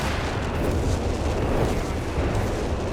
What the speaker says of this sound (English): Artillery call in the center.